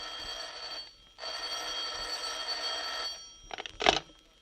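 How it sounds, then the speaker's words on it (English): An old-fashioned telephone bell rings in two long bursts separated by a short gap, fairly loud and close, followed by a brief clatter as the receiver is picked up. "Barely had he closed his eyes when the phone rang."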